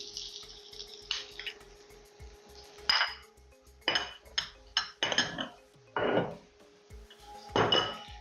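Chopped onion and garlic tipped into a cooking pan for a spinach and hilsa fish dish, heard as a series of separate clinks and scrapes of utensils against the pan over a faint steady background hum, no voices.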